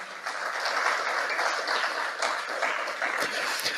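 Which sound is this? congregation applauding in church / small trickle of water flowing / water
congregation applauding in church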